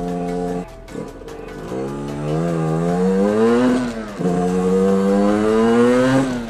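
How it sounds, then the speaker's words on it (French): A small, cold motorcycle engine revs up and down in repeated rising pulls, buzzy and close, with brief dips between revs. "la moto est froide comme on l'entend"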